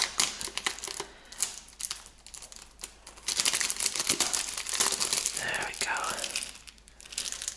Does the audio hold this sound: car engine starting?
no